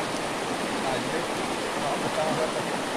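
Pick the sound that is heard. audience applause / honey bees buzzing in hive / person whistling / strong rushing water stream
strong rushing water stream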